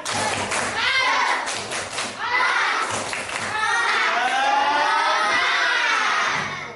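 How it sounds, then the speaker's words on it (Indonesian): Schoolchildren in a classroom do a rhythmic spirit clap, with patterned claps mixed with loud, excited chanting and shouting voices throughout. "Coba tepuk semangat dulu."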